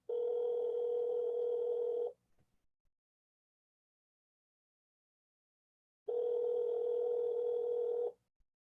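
Two long ringback tones of a phone line, about two seconds each, separated by a few seconds of silence, clear and steady with no voices.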